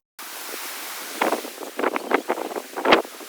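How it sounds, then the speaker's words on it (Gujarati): A strong storm wind blows outdoors during a 2024 cyclone, with repeated loud gusts that buffet the microphone in bursts over a steady rushing background. "તમે કેટલો અમારે પવન ને એવું બધું ફૂંકાય છે"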